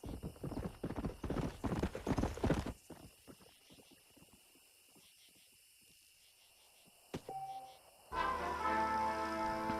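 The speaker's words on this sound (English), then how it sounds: "best horse in the game, just like that." A stallion's hooves clip-clop in Red Dead Redemption, a brisk run of hoofbeats that fades to sparse steps, then a brief sharp sound and a swelling musical tone near the end.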